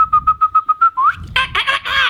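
A human voice whistles a bird imitation: a quick string of about eight short steady chirps, then a rising slur and a few brighter warbling trills, close and clear with nothing else around.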